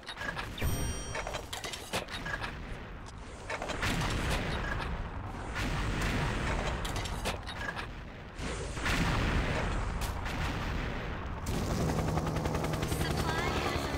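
Gunfire in the online shooter XSHOT, rapid sustained bursts layered with explosions and a whirring, helicopter-like drone, dense and loud throughout, with a player talking over it.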